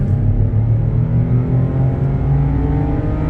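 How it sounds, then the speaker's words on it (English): A 2021 GMC Canyon AT4 truck at full throttle, its engine giving a loud, steady droning rumble heard from inside the cab, with no talking. "let's do an acceleration pull just to show you guys how sluggish the transmission is here"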